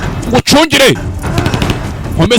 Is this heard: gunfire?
yes